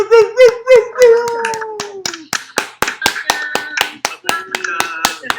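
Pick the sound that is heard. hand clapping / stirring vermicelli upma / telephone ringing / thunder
hand clapping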